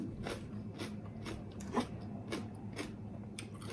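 Crunchy bites of spicy Thai squid salad (tam pla muek) being eaten, a handful of soft, crisp chewing crunches at a steady pace, close and quiet, no talking.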